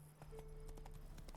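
Hooves of Roach, a horse in The Witcher III video game, clip-clop in a steady galloping rhythm, close and clear under a low sustained game music tone.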